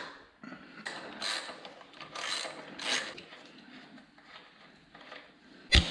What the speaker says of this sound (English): Remove the axle nut. I've attached a wrench to the ratchet for leverage.